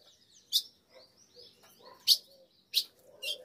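A female ultramarine grosbeak calling in an aviary gives four short, sharp, high chirps at uneven gaps. Softer twittering and faint background sounds fill the quiet spaces between them.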